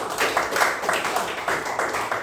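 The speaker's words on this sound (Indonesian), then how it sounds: "Tepuk tangan buat Sekar" Children in an Indonesian classroom clap together for a classmate's answer during a lesson on ecosystems, producing steady rhythmic bursts of hand claps at a moderate level, close by.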